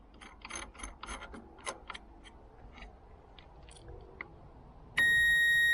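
Disconnect bolt being screwed into a Richbrook Discarnect battery master switch on a Ford 3000 tractor: a close run of small clicking, ratcheting mechanical ticks, followed by a loud steady electronic tone that starts abruptly near the end.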